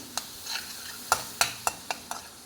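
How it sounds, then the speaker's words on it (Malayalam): Crushed garlic and ginger fry in a pan for a Kerala fish curry with kudampuli, a soft sizzle punctuated by several sharp scrapes and taps of a spoon stirring, close and without speech. "അതിലേക്ക് വെളുത്തുള്ളി ചതച്ചിട്ട് ഇളക്കി അതിൻ്റെ പച്ചമണം മാറിക്കഴിയുമ്പോൾ നമുക്ക് ഇഞ്ചിയിട്ട് മൂപ്പിക്കാം."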